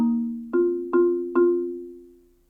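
Marimba struck off center, a passage from a piece, three ringing mallet strokes over a sustained low note, close and clear with each tone decaying alone.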